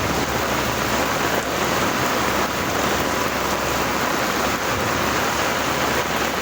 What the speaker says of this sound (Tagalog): Baka hindi tumigil tong ulan.